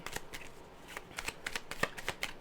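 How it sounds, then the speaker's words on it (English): A deck of cards is shuffled close by, a quick run of crisp riffling bursts with no one speaking. "And let's shuffle."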